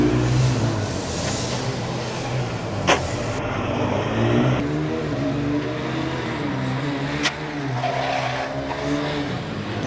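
A Formula Student race car runs an autocross course, its engine droning steadily and fairly close with shifting revs, faint tire squeal, and a couple of sharp clicks along the way.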